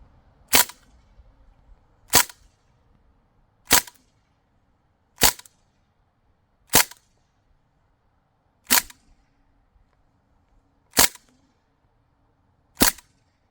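Crosman R1 BB rifle with a custom CNC gas piston fires eight sharp, loud cracks spaced about two seconds apart, each shot standing alone against near silence.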